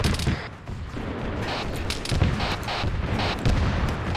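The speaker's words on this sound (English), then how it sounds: "You guys need to get fucking shots on that Zeus cannon that's shooting at us." A Zeus cannon fires in a military simulation game, a dense stream of rapid booming shots and crackling gunfire that stays loud and continuous, with no talk.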